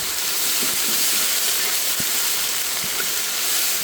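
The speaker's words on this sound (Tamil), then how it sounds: "ஒரு 50 கிராம் அளவுக்கு இஞ்சி, 50 கிராம் அளவுக்கு பூண்டு அரைவை சேர்த்துக்கோங்க" Ginger garlic paste hits hot oil while okra masala curd pachadi is being made, and a steady, loud sizzling hiss fills the pan. A few faint pops and taps rise briefly above it. No one speaks.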